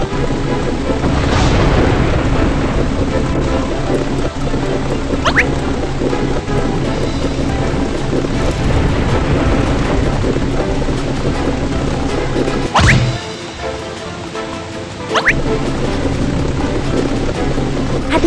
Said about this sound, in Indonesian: Ada badai, hati-hati.